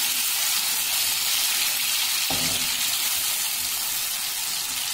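Tomatoes sizzle and fry in a pan over browned garlic and ginger for a dhaba-style whole masoor dal, a steady dense hiss throughout with a brief stir or clatter midway.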